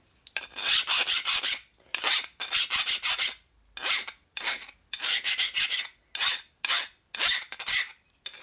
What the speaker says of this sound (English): You can hear the file digs in places.